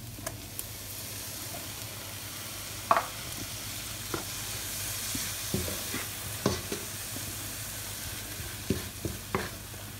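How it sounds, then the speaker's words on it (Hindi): Tomato puree added to sizzling roasted spices over low heat for a mixed vegetable curry, a continuous sizzle with repeated scraping and clinking stirs of a spoon in the pan. "अब उसमें हम ऐड करेंगे टोमेटो प्यूरी"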